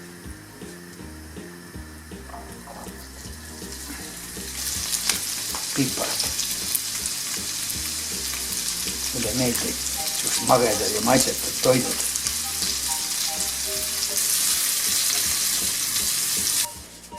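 Ham frying in a little oil in a pan, a steady close sizzle that grows louder as the meat goes in and is stirred, with a person talking over it.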